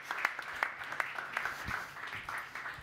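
Modest audience applause welcomes a panelist at an agricultural insurance panel discussion, a loose patter of scattered individual claps, fairly faint and uneven throughout.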